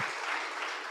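Audience applause fills a church community worship gathering, a steady dense clapping from a crowd throughout, close and moderately loud.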